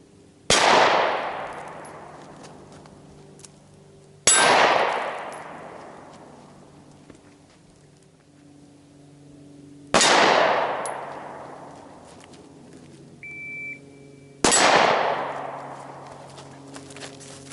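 Four sharp pistol shots fired seconds apart during a draw-from-concealment drill, each a hard crack with a long decaying tail, heard through in-ear digital hearing protection, with one brief electronic beep from a shot timer.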